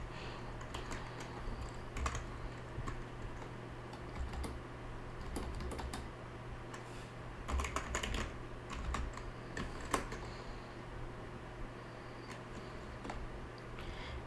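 Linux firewall commands are typed on a computer keyboard in quick, uneven bursts of light clicking keystrokes, close and fairly quiet over a faint steady hum, with short pauses between runs.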